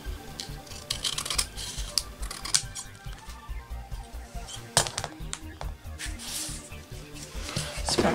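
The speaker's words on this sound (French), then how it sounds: "Je vais découper mon papier" Paper being cut by hand for a steampunk-style canvas craft, a run of close, irregular snipping and rustling cuts continuing steadily, with speech over it at times.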